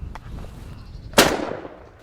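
A single loud gunshot rings out during a fox hunt, with a sharp crack followed by a rolling echo that fades over the next second. A few faint knocks come before it, and the shot stands alone without talk.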